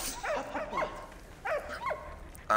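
Puppy in the World War I game Valiant Hearts letting out several short, high yipping barks in two quick bursts, close and fairly loud, with a brief sharp sound at the end.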